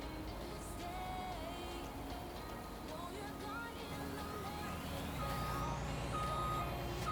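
Reversing beeps from a vehicle in Farming Simulator 19, set on an Australian farm map, repeat steadily under a dense mix of engine rumble and game noise while someone talks.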